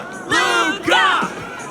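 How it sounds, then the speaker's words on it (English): A cage-fight crowd roars and whoops in two loud swelling bursts, with voices cheering and yelling close together in a packed indoor arena. "Ugh, the crowd never gets tired, do they?"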